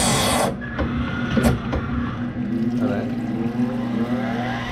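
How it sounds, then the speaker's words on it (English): A BMS250 blade sharpener's grinder motor whirs with a steady humming drone, punctuated near the start by a few sharp grinding bursts and clicks, close and moderately loud. "Turn the grinder on."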